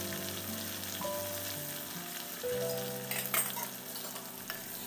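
Curry leaves, chopped coriander and spices fry in hot oil in a pan, a steady close sizzle with a few scrapes of stirring, for an aubergine curry; no one talks.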